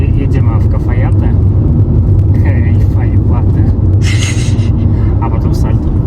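A car drives along a road in northern Argentina, heading toward Cafayate, with a steady loud engine and road rumble throughout and people talking over it inside the cabin.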